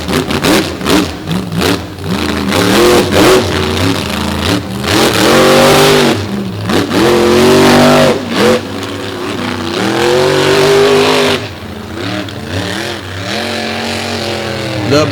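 Raising Cane monster truck, troubled by transmission problems, revs its engine loud and close in a beach arena. Repeated rising and falling roars surge and drop again and again with no voices.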